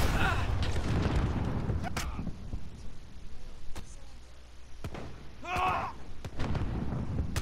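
Gunfire in a Call of Duty: Modern Warfare match: sharp, scattered shots burst out at irregular moments, some close and loud, with excited voices talking over much of the action.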